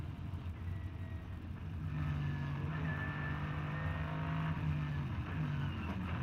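Race car engine droning at the Nürburgring 24-hour qualifiers, a steady distant roar that swells slightly as the car passes, heard alone with no talk.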